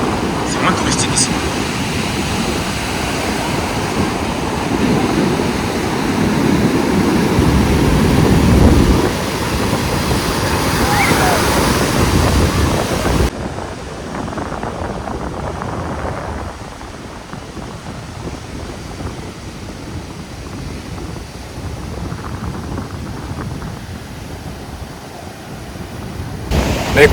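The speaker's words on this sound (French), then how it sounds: "La mer est bien agitée" Rough, agitated sea surf pounds a beach in the Dominican Republic as a steady roaring wash of breaking waves, loud and continuous, later mixed with wind and a person talking.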